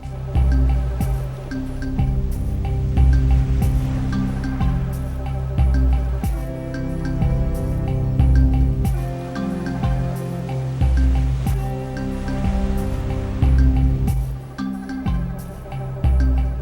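Surf rolling onto a beach in Elden Ring, heard as repeated swelling washes of water with splashy bursts and brief lulls, fairly close and loud, with no talking.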